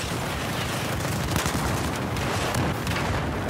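Dense, unbroken battlefield gunfire in the shooter game Battlefield 4, with overlapping shots and booms blending into a loud, chaotic wash that lasts the whole stretch.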